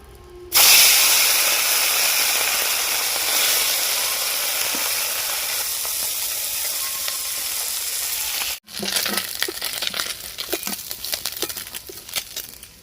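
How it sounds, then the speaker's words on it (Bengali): Small mourala fish frying in hot oil, a loud, steady hiss and sizzle starting abruptly, briefly cutting out, then returning with sharper crackling pops. "আমি এবার মাছগুলো ভেজে নেব।"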